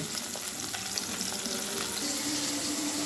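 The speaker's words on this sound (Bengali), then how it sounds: "মাছগুলো আমি মিডিয়াম টু হাই ফ্লেমে মাছগুলো আমি ভেজে নেব।" Fish pieces fry over medium-high flame, a constant dense sizzle and hiss that holds at an even level throughout, close and without talk.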